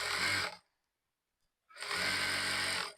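A sewing machine stitches a seam on a salwar in two loud, steady bursts, the second starting after about a second of silence, with no talking.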